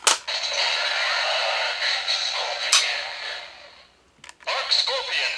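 An Ark Scorpion Progrise Key toy plays an electronic voice and synthetic effects from a small speaker, a steady noisy burst with sharp clicks, a brief pause, then more sound.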